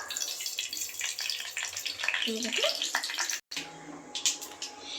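Mustard seeds dropped into hot cooking oil for egg noodles crackle and sizzle in a dense, steady fry, broken by a brief silent gap before the sizzling resumes close by.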